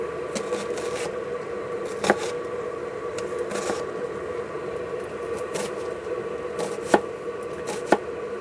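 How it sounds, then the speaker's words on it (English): A knife chops three small onions on a board in a steady run of light, close taps with a few sharper knocks, over a constant low hum of bacon cooking nearby, with no talking. "I'm going to go ahead and cut up these 3 little onions"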